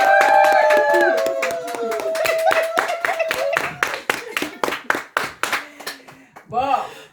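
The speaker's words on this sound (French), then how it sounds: "veuillez applaudir pour vous-même." Audience at a women's conference applauding, with dense hand clapping that thins into scattered claps toward the end, while a nearby voice speaks over the applause.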